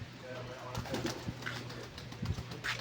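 Pigeons coo in a loft at midday, soft low throaty calls repeating close by over a steady background murmur.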